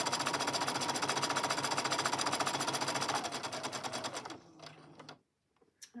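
A sewing machine stitches fabric with its presser foot set to pressure 4, a fast, steady mechanical needle rattle running loud for about four seconds, then slowing and stopping, followed by near silence and a few faint clicks.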